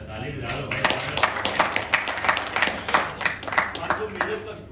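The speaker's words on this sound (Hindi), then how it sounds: "ताली बजा लो भाई" A business presentation audience at a loan services event bursts into scattered clapping, a run of sharp irregular claps rising and carrying on steadily for several seconds in a room.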